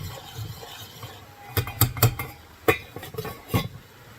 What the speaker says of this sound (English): I do have my sauce simmering, and I'm going to occasionally stir it